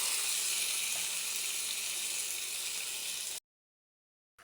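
Cut chalta (elephant apple) pieces hitting panch phoron in hot oil give a bright, steady sizzle. The sizzle holds for about three seconds and then stops abruptly into silence.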